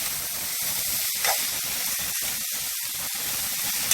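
Vegetables steaming in a hot pan after a splash of water is added, a steady loud hiss and sizzle filling the clip alone, with one brief flare near the middle and no talk.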